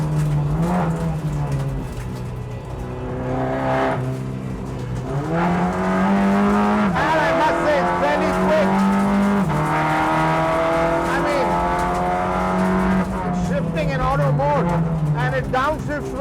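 A Volkswagen Vento TSI race car drives on track, its engine droning loud and close, with the pitch climbing as it revs and then dropping sharply at each gear change and downshift.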